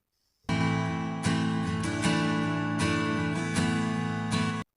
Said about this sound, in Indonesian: Itu adalah bunyi dari alat musik gitar.